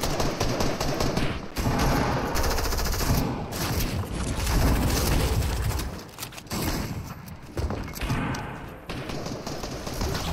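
Rapid bursts of automatic gunfire crackle almost without pause in a video game firefight, dense and loud, with a few brief gaps between volleys and no voices.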